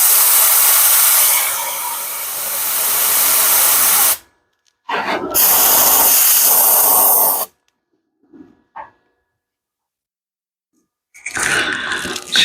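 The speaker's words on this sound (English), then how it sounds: "Just using the compressed air to cool it down a little bit." Compressed air blasts against a freshly welded steel patch coated in weld-through primer, a loud steady hiss lasting about four seconds, then a second long burst after a pause, with brief softer puffs and another burst at the end.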